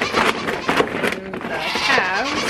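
Goats bleat repeatedly on a farm at feeding time, several wavering calls layered over one another, close and fairly loud, with some voices and farmyard noise mixed in.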